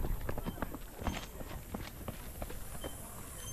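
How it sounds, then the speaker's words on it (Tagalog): A horse or donkey clops along near a waterfall, its hooves making an even rhythm of hollow clip-clops close by, while people chat over the hoofbeats. "Ito yung kabayo nila."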